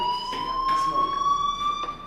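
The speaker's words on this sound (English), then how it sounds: "do you hear that fire alarm?" A school fire alarm in the Life is Strange video game sounds as a continuous high electronic tone with harmonics, loud and unbroken, with brief footsteps or movement noises around it.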